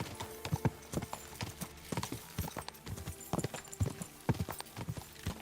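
Hooves of Pebbles, a swift horse, pound at a steady gallop in Kingdom Come: Deliverance 2, with rapid, evenly spaced clip-clops that stay close and clear for the whole stretch, and no voices over them.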